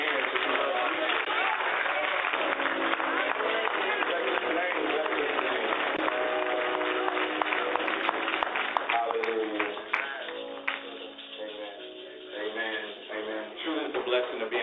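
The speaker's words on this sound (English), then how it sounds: "Come on, clap your hands." A church congregation claps hands during a Sunday service, sustained rhythmic clapping mixed with a busy crowd and a voice on a band-limited recording.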